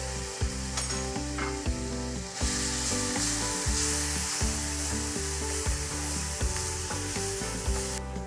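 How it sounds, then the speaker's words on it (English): Minced garlic and crushed red pepper sizzle steadily in a pan while being stirred for a shrimp and grits dish, a constant hiss running beneath louder background music. "Add 1 tablespoon minced garlic, stir and cook for another 30 seconds."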